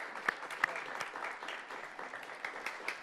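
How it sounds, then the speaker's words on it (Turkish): A crowd applauds to welcome a mayor to his seat at an indoor event, steady clapping at moderate volume with a few sharper claps standing out over about three seconds. "Kocaman alkışlarınızla ben başkanımızı yerine davet etmek istiyorum."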